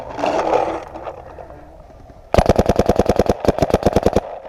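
Paintball markers, a Mini GS and a Proto Rize, fire during an outdoor woodsball game: a fast, even string of about sixteen sharp, close shots with a brief gap, after a softer stretch of outdoor noise.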